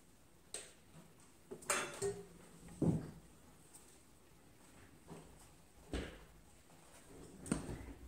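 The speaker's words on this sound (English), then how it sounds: "And then it is just stirring this into a paste." Egg whites being stirred into an almond and powdered sugar paste for espresso macarons, heard as sparse, quiet scrapes and clinks of a utensil against a bowl, irregular and close, with no voices.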